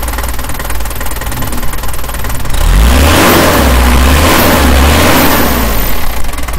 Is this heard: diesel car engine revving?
yes